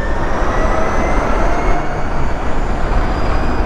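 An Ather 450X Pro electric scooter riding in Rap mode, giving a steady, loud, continuous rush of wind and road noise with a faint high whine and no pauses, heard alone.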